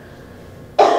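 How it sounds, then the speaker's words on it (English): A coughing fit, one loud, sudden burst near the end of a quiet moment during a garden club talk in a room. "I have had cough fits all day, so I'm gonna have a cough fit"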